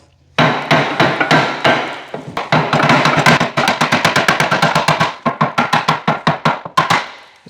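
A hammer taps at the key on an old, damaged engine's shaft, dozens of sharp, close, loud metallic blows landing in a steady, fairly fast rhythm.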